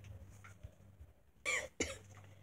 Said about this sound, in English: Oh no, I coughed.